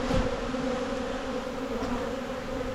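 Honey bees buzzing around an opened hive being packed down for winter, a steady dense drone of many wings close by with no talking.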